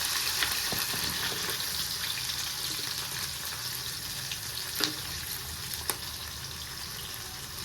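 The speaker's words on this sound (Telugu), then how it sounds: "అలాగే పచ్చిమిర్చి వేయించుకోవాలి." Green chillies and onions fry in hot oil, giving a steady broadband sizzle throughout, with a couple of soft clicks from stirring partway through.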